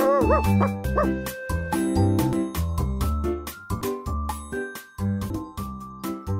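A dog barking fiercely in a children's animated folk tale, a rapid run of loud, close, yappy barks with short pauses between bursts and faint jingling behind.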